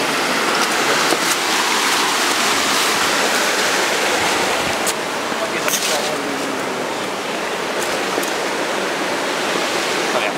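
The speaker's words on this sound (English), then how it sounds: "It's like a waterfall or something." A creek spills over a small waterfall along a riverside trail, a continuous broad rushing wash of water, loud and close, with occasional splashes and faint voices in the background.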